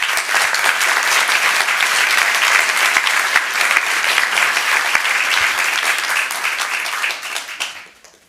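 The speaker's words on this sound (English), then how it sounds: "Let's give them a round of applause" A city council meeting audience gives a round of applause for city staff, dense sustained clapping close and loud, tapering away at the end.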